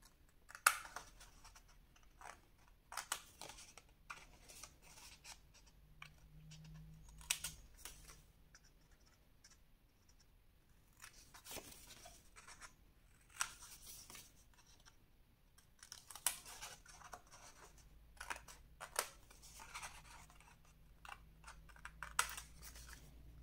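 Scissors cut paper in quiet, repeated snipping bursts for a Chanel N°5 advent calendar papercraft, close and soft with short pauses between strokes.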